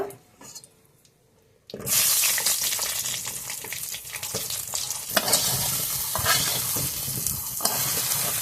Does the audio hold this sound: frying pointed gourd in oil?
yes